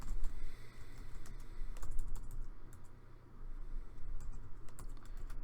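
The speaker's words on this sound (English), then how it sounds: "I'm having so many issues typing today." Someone types steadily on a computer keyboard, a rapid stream of clicks and key taps with brief pauses, close and clear over low background hum, with no talking.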